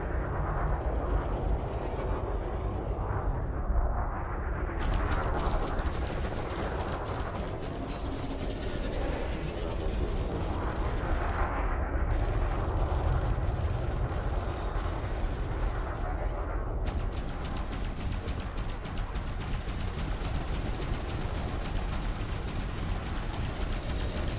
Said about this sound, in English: That top large cannon is doing about what I expected it would.